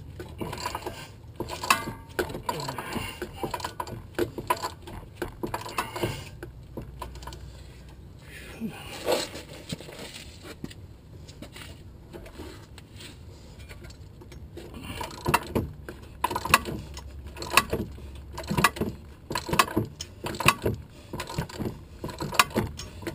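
A wrench ratchets on a bolt at the wheel hub of a Chrysler Town and Country, giving steady clicking strokes in bursts, close and moderately loud, with no talk over it.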